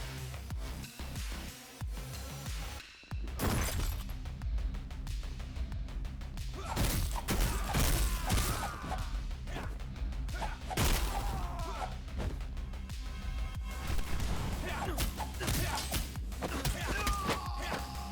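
A locked door blasted open in a game, among a dense run of heavy crashes, thuds and gunfire-like bursts that carry on loudly throughout, with a voice talking over parts of the din.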